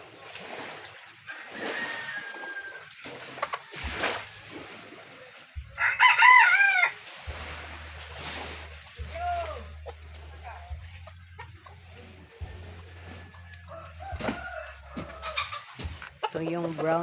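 Chickens cluck intermittently around a yard, with a rooster's crow rising midway and background voices and low engine hum coming and going.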